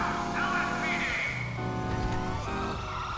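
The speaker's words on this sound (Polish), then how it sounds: "domyślny klakson jest taki." Default horn of a very large, long car in GTA Online, sounding as loud sustained honks that shift in pitch between presses, with game background behind.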